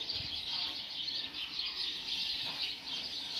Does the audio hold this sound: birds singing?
yes